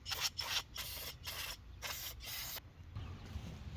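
Carburetor cleaner sprayed from an aerosol can during ignition module work on a Husqvarna HU675AWD mower, heard as several short hissing bursts in quick succession, loud and close, with brief pauses between them.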